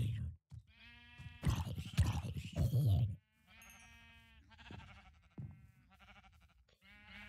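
Minecraft sheep bleat in short wavering calls, several in sequence, loud and close, with a burst of other game noise partway through.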